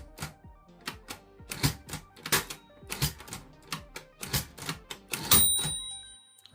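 A typewriter mechanism is worked by hand as its tab is taken out, a rapid run of crisp mechanical clacks and clicks ending in a longer ratcheting rattle with a faint bell-like ring, close and loud.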